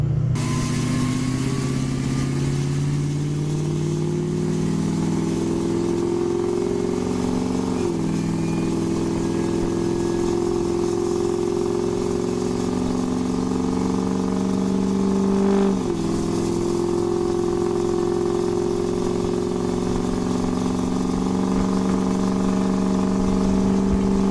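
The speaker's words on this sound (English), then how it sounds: "we're about to accelerate up to 60. Pulling onto the highway." Vehicle engine accelerating up to highway speed while pulling onto the highway, a steady loud drone with gear-shift dips as the pitch climbs, heard from inside the cab.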